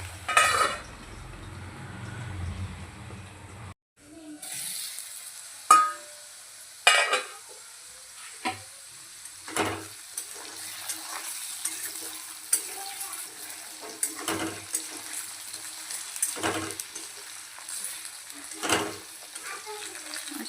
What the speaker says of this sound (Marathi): पद्धतीने आपले आलू कसे एकदम छान असे फ्राय केले जातात